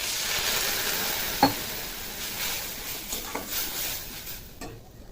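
Water is poured into ginger-garlic paste frying in a pan, giving a steady soft sizzle with a sharp clink of a utensil and light stirring scrapes.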